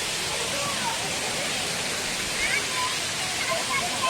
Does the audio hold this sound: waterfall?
yes